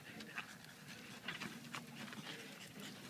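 A dog pants in the heat on a hot canyon hiking trail, with quick, faint, repeated breaths in an uneven rhythm, close by and quiet.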